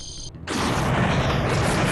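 A cannon fires in the Shining Force 3 video game: a short synthetic tone cuts off, then a loud, sustained burst of rumbling blast noise holds to the end.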